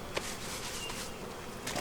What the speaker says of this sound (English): put those bees back in the blue hive